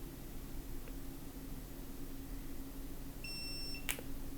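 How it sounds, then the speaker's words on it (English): A Jarsh Commute smart ebike helmet with LED turn signals gives a single short, clear electronic pairing beep near the end, sounding over a steady background hiss. "And we'll hear a beep."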